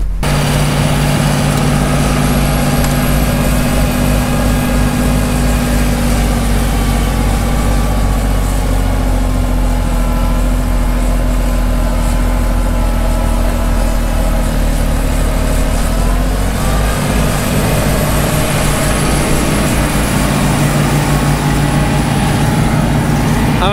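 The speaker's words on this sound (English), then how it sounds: "amazed by how quickly a 9-foot snowblower will bring a 320 horsepower tractor to its knees." A 320 horsepower tractor running a 9-foot snowblower through packed snow gives a steady, loud, heavy low engine drone that holds throughout, dipping slightly in load toward the end, with no talking.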